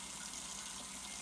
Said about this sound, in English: leave the water going